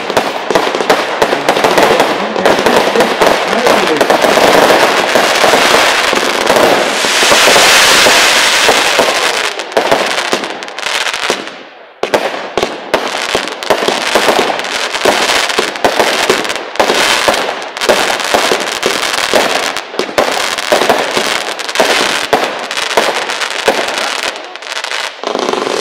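Cluster fireworks from a NICO product demonstration, bursting about 40 metres up with a 360-degree effect: a loud, sustained barrage of crackling pops and bangs, dense for about twelve seconds, then continuing in rapid, irregular bursts.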